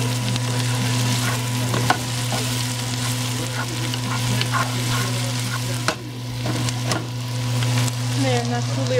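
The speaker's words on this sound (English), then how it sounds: "I got the onions going." Onions fry in a pan with a steady, close sizzle and crackle, and a constant low kitchen hum sits beneath with a few soft clinks.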